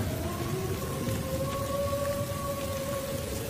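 Steady rain falls outdoors, a constant dense hiss of drops on surfaces with a low rumble underneath and a faint sustained tone running through it.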